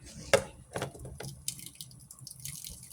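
Liquid from salt mackerel splashes and drips through a big strainer, with a sharp clink at the start and scattered trickles and taps afterward.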